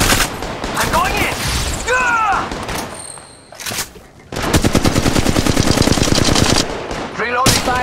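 Rapid automatic gunfire from the Apex Legends video game on iPad, loud bursts with a short pause and faint tonal game effects mid-way, then a long sustained volley of rhythmic shots.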